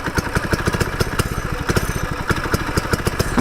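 A freshly pull-started mini bike engine runs close by with a rapid, steady, clattering putter at constant speed.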